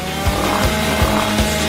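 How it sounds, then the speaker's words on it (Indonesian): A power saw buzzes steadily through a Twix chocolate bar, its loud continuous whine marked by four rhythmic dips as the blade works through the candy during a cake decorating challenge. "Singkirkan gergaji itu sekarang. Tenang, aku membutuhkannya untuk memotong Twix."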